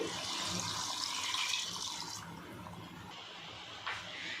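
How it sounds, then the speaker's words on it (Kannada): Water mixed with coconut milk pours steadily onto rice for white pulao, a close, continuous splashing gush that eases off partway through, with no talk over it. "ನಾನು ತೆಂಗಿನಕಾಯಿ ಹಾಲೂ ಸೇರಿಸ್ಕೊಂಡು ನೀರು ಹಾಕ್ತಾಯಿದ್ದೀನಿ."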